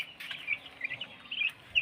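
Tiger chickens cluck in short repeated bursts at a farm, close but faint, with no talk.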